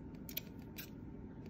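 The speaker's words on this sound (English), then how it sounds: "Just try your best and cut a small circle, top and bottom." Scissors snip through a paper plate, a couple of quick close cuts with a faint mechanical click between them.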